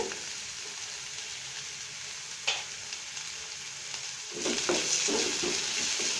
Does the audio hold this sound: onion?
yes